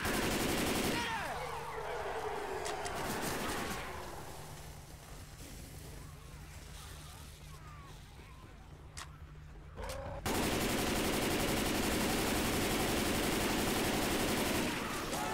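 Gunfire in the video game Left 4 Dead 2 on a gun shop survival map comes as dense, loud bursts of automatic shots, briefly easing in the middle before resuming, with a player's voice over it.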